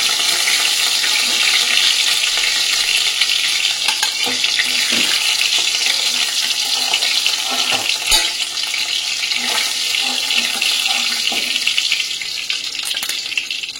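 Loud, steady sizzling of fish frying in oil in a kadai, a continuous hiss with occasional clinks and scrapes of a utensil in the pan, no talking.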